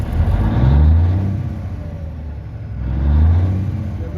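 Car engine revved in two sharp throttle snaps during a fuel pressure check on a new fuel pump, each rising to a loud roar and settling back to a steady idle, close up with no talk.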